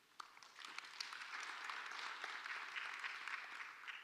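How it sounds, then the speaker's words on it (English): An audience at an international public-sector human resource management conference applauds as a panelist from the OECD is introduced, a faint, steady spread of clapping from a distant room. "Please give him a round of applause"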